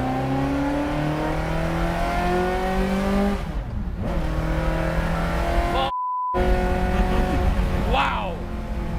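A sports car engine with an 8,000 rpm redline revs loudly and climbs through the gears, rising whines broken by short shift gaps, heard up close from inside the car on a drive in Pattaya, Thailand.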